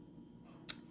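Scissors snip once through soft white decorative rope, a single short crisp cut at close range against a low steady background hum.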